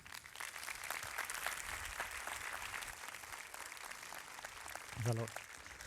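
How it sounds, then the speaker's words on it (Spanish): Audience applause for a speaker at a Spanish-language professional talk, a steady dense patter of clapping filling the whole clip at moderate level, with a brief voice rising near the end. "Un aplauso para él."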